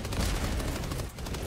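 Sentry turrets fire in the video game Helldivers II, a dense rapid rattle of automatic gunfire sustained loudly throughout with a slight dip near the end, no clear voices over it.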